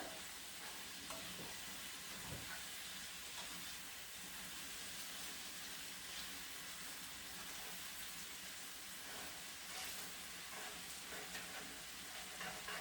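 Green onions frying in a pan along with cabbage and egg, giving a steady, continuous sizzle with stirring scrapes that stays even and fairly close throughout, with no voices.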